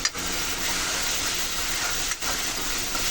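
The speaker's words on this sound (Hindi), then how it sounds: "इसका तड़का मारते हैं" Steady broadband sizzle of spices tempering in hot oil for kadhi, loud and continuous with a brief dip partway through, no voices.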